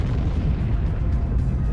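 A deep, continuous rumbling roar fills the space as an explosion effect for a stellar supernova, loud and sustained with a dense low boom and no talk over it.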